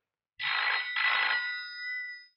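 A telephone rings twice in quick succession, a bright electronic trill with a lingering tone fading out, nearby and with no talking, in the 1994 Hindi film Aaja Sanam.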